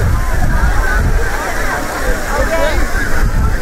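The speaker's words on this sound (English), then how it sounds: "there you go, fountain. Here's a kid running through it." A water fountain in Washington Square Park, New York City, splashes steadily and loudly close by, mixed with children playing and a murmur of people in the busy park.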